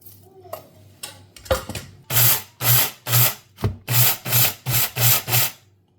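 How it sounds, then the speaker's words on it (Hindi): An electric spice grinder pulses roasted pakora masala in about nine short, loud whirring bursts at a steady rhythm, after a few clatters of handling. "ये अपने ग्राइंडर में हम जो है वो रोस्टेड मसाला डाल लेते हैं और इसको ग्राइंड कर लेते हैं।"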